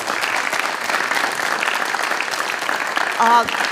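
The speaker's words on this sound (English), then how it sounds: "let's give them all one big round of applause" Audience at a Rotary Club speech competition giving the contestants a round of applause, sustained steady clapping with a brief voice rising over it at the end.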